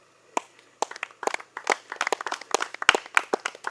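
A team claps for itself during a jungle search challenge in Africa, a scattered round of applause that builds from a few separate claps into steady, fairly close clapping.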